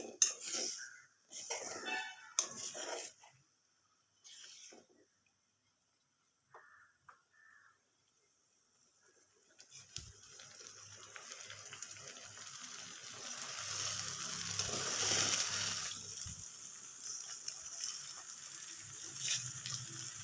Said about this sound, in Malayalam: പതിയെ പതിയെ ഇളക്കിയിട്ട് കൊടുക്കാം